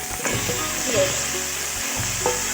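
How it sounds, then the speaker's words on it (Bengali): Crab pieces fry in oily spiced masala in a pan, a loud steady sizzle close up with repeated scraping thuds of a spoon stirring through the mixture, no one speaking. "এবার ভালো করে কষিয়ে নিচ্ছি"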